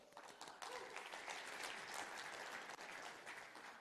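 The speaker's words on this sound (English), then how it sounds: "This is where you all clap." Audience clapping at a crypto conference talk in Vilnius, Lithuania, a faint but continuous patter of many hands heard from a distance, with no talking over it.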